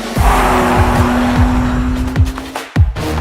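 A 2021 BMW M3 pre-production development car being test driven at the Nürburgring: a loud, steady engine drone fills the clip, with repeated sharp gear-shift bursts and tire noise and a brief dip near the end.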